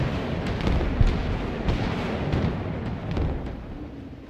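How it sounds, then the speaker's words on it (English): Airstrike explosions in the Broken Arrow war game rumble as a dense, continuous barrage of booms and blasts, loud and layered with one sharper hit near the start. "These airstrikes have been crazy."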